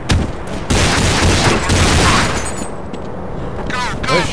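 Gunfire in the Counter-Strike game on the Oilrig VIP map, several loud bursts and shots in quick succession with game radio voices talking over them.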